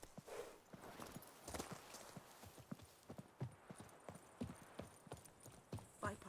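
Horse hooves clip-clop in a steady walking rhythm on the mount Roach in The Witcher 3: Wild Hunt, close and clear, with an occasional faint whinny and game ambience behind.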